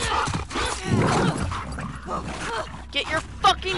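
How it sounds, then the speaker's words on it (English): Attacking dog in the video game The Last of Us Part 2, with growls and yips mixed under shouted voices and game combat noise. "Get your fucking dog off me"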